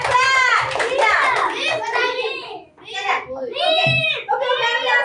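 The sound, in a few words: children clapping hands in class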